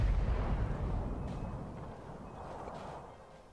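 Cannon artillery fire in Napoleon Total War, a low rumbling barrage of distant booms rolling continuously, with no talk over it.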